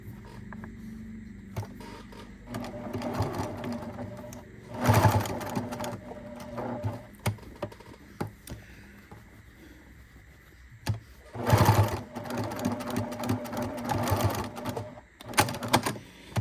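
A sewing machine stitches fabric for a folded basket in two bursts of fast, even mechanical whirring, separated by quieter handling noises and pauses, up close and unaccompanied.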